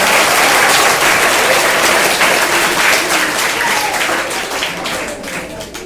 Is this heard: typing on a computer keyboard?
no